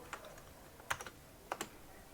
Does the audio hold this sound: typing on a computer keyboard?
yes